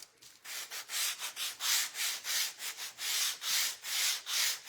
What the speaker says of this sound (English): I gotta do a little bit more sanding on this one side.